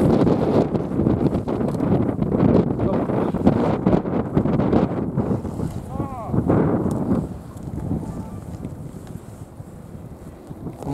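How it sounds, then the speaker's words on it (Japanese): Strong wind gusts roar across the microphone outdoors on a ski slope during an FIS giant slalom race, a loud continuous buffeting that eases slightly near the end, with a voice speaking briefly. "風吹くな"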